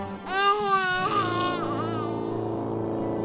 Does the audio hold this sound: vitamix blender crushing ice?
no